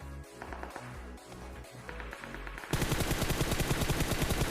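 Gunfire in the mobile battle-royale game PUBG Mobile: scattered shots over a busy game backdrop, then a loud, sustained stretch of rapid automatic fire in dense bursts.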